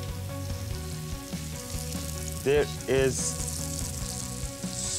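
Bacon slices frying in a hot pan give off a steady sizzle that carries through the whole stretch, a fairly even bed of crackling texture with a voice speaking briefly over it.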